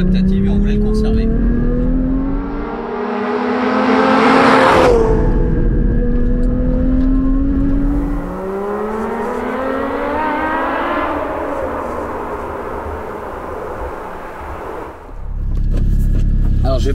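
A sports car fitted with adaptive PASM suspension roars loudly as it accelerates through the gears, the engine note rising and dropping with each shift, close and sustained, with brief speech at the end.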